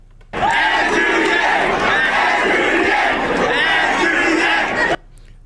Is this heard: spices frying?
no